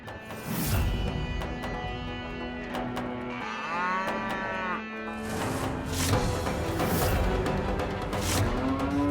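A cow lows in a long, drawn-out moo near a rural household, heard clearly over a sustained musical background score.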